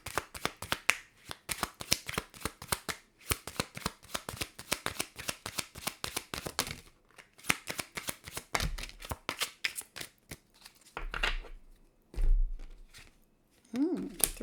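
Tarot cards are shuffled by hand in rapid riffling bursts, a dense run of crisp slaps and flicks with a short pause midway and a few soft thumps near the end, close and clear.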